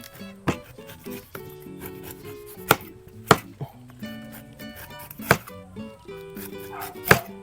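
A knife chops food on a cutting board in a home kitchen, with sharp irregular strikes spaced apart against soft rubbing and light background music.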